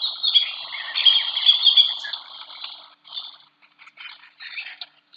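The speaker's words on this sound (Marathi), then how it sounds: "हा माळढोक पक्षाचा आवाज आहे." A Great Indian Bustard calls in a bird sanctuary with bursts of high, chirping notes. A longer phrase comes first, followed by several shorter, fainter repeats separated by quiet gaps.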